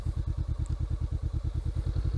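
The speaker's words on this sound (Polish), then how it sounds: "wbijamy sobie jedynkę i powoli ruszamy w ogóle bez gazu" A motorcycle in first gear rolls off slowly with no throttle, its engine ticking over in an even, rapid low thump, close by and steady throughout.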